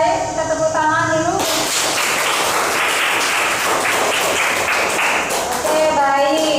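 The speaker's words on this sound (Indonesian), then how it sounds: "Kita tepuk tangan dulu." Classroom of students clapping together during a lesson, a loud burst of dense clapping lasting several seconds, with children's voices heard before and after.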